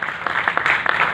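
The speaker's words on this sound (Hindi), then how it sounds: "एक बार जोरदार तालियां।" Applause from an audience at a Hindi-language event honouring a woman army major, a short burst of dense clapping with a few sharper claps standing out.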